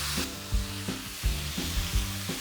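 Halved garlic cloves fry in a pan for a creamy mushroom and spinach pasta sauce, with a steady sizzle and rhythmic thumping strokes of a spoon stirring about every half second, close by.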